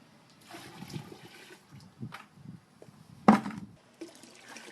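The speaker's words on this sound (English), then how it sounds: "I just add the wort back to the pot" Home-brewed wort for an English bitter, squeezed from a brew-in-a-bag grain bag and poured back into the boil pot, gives a brief splashing pour and trickle, followed by a few scattered clunks and one sharp clatter, close and moderately loud.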